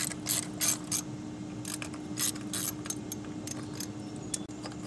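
A hand ratchet clicks in quick bursts while loosening a spark plug on a Nissan Maxima engine, close and crisp over a steady background hum, with short pauses between strokes and no talk.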